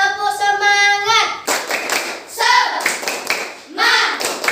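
Children in a sixth-grade classroom chant a spirited call-and-response, voices shouting in rhythm with sharp, loud claps and taps punctuating the chant, all close and lively.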